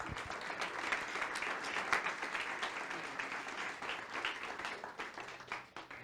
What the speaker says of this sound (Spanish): Dele un buen aplauso al Rey de Gloria.